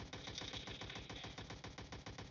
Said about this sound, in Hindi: बाहर नहीं टेकर, गोली चली